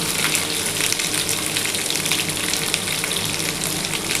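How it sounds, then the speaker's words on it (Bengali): Potato and elephant foot yam pieces fry in a pan with a dense, even sizzle that stays loud and close for the whole stretch, with no talking. "আমার কিন্তু আলু আর ওলটা কিন্তু মোটামুটি একটু ভাজা হয়ে এসছে"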